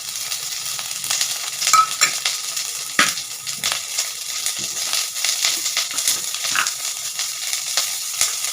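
Chopped onions fry in hot oil for an onion and broad bean curry, with a steady close sizzle broken by scraping stir strokes and occasional clatter.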